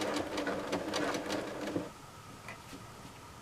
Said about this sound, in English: I've got my needle in the down position so that every time you stop, your needle's down and your work doesn't move.